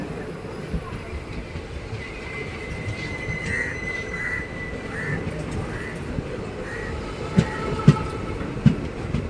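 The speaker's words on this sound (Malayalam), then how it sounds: "കൊല്ലം റെയിൽവേ സ്റ്റേഷൻ്റെ ഈ രണ്ടാമത്തെ ട്രാക്കിലൂടെ കടന്നു പോകുന്ന ട്രെയിൻ നമ്മുടെ തിരുവനന്തപുരം സെൻട്രലിൽ നിന്നും സെക്കന്ദരാബാദ് ജംഗ്ഷൻ വരെ പോകുന്ന ശബരി എക്സ്പ്രസ് ആണ്" Sabari Express, bound from Thiruvananthapuram Central to Secunderabad, rolls along the second track at Kollam railway station: a steady low rumble of passing coaches with a faint tonal whine and a few sharp clacks near the end.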